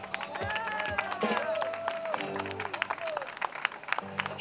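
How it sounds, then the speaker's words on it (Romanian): Concert audience at a 25th-anniversary Golaniada event applauds the band and its keyboard player, steady clapping and crowd noise running throughout, mixed with sustained music tones and a voice speaking over it. "să-i aplaudăm."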